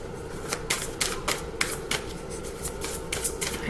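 Tarot cards being shuffled by hand, a rapid run of crisp riffling bursts repeating steadily, close and fairly loud with no talking.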